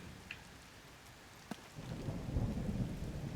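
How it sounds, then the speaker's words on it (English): Rain and thunder in the video game Zelda: Tears of the Kingdom on Switch. Steady rainfall swells into a louder downpour after a sharp crack, with a low rumble underneath, and no voices. "Oh, why did it have to rain?"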